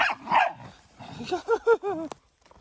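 A dog barks and yips several times close by, a cluster of short rising barks in quick succession after a couple of earlier whiny yelps, with no one talking.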